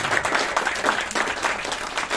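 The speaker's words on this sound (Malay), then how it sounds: "Berikan tepukan paling gemuruh untuk PTPTI." An audience applauds steadily, a dense wash of many hands clapping at once, continuous and fairly loud throughout.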